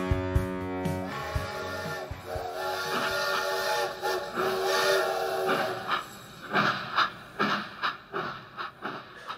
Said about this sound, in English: That sound effect you can hear is, of course, the Gary Rowett Express train